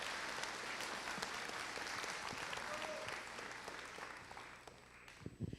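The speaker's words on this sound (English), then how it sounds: "One more round of applause for Landon." An audience at a middle school 8th grade graduation claps in sustained, dense applause that tapers off toward the end, fairly distant and soft.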